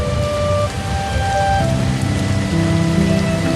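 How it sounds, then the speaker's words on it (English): Steady rain pattering on a thatch roof of a Costa Rican rainforest treehouse at night, dense and continuous with a soft rumble underneath, close and enveloping. "Let the sound of the rain on the thatch be the last thing you follow tonight."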